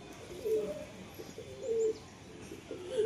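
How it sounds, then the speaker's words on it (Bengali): A white-eyed female pigeon coos in three short, low, resonant phrases at close range against quiet background hum. "সাদা চোখের কবুতর।"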